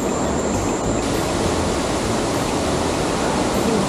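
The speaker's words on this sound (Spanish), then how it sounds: "Un espectáculo de cascada." Large waterfall at Charco La Planta in San Luis, Antioquia, a powerful, steady roar of falling water, loud and close, continuous broadband rush with no voices.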